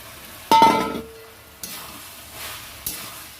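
Pre-fried pieces are tipped into a sizzling pan with a sharp metallic clink, then a burst of hissing fry, followed by two more scraping stirs that each set off fresh sizzling.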